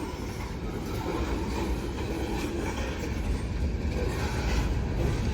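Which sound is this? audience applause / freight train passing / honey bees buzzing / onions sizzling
freight train passing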